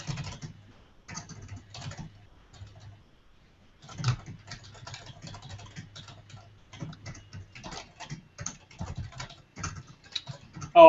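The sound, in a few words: typing on a computer keyboard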